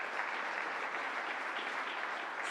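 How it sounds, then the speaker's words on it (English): A church congregation gives another round of applause during a service, a steady, full burst of clapping that runs unbroken at even volume throughout. "Another round of applause"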